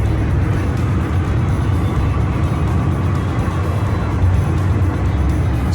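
Steady road rumble and engine drone from inside a moving car, loud and continuous for several seconds, with no talking.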